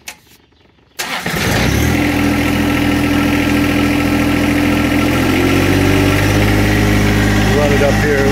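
A warmed-up John Deere 1025R compact tractor cranks and fires after a second of near silence, then settles into a loud, steady diesel idle with constant low rumble, close by.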